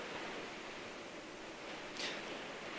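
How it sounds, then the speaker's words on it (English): A plastic construction tarp rustles overhead in a meeting room, making a soft, even wash of hiss with one slightly louder flutter, faint and continuous and with nobody speaking. "the sounds you're hearing, it's likely not rain, but it's the plastic tarp above us due to the construction"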